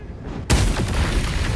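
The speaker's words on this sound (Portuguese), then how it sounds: "Vamos fazer a explosão então." A sudden loud boom erupts in the video game Baldur's Gate 3 after a quiet moment, followed by a sustained rumbling, crackling roar that fills the rest of the clip.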